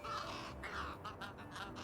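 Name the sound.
crows cawing in video game Little Kitty, Big City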